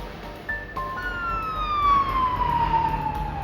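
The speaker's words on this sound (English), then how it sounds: "Emergency vehicles arrived moments later." Emergency vehicle sirens arriving at an office shooting scene in New York, a rising then long falling wail that sweeps downward over a few seconds, loud and near above a rumble of traffic.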